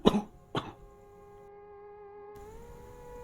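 A man coughs twice in quick, harsh bursts close by, then a steady low tone hums on alone.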